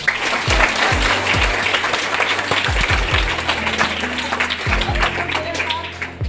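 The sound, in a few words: students clapping applause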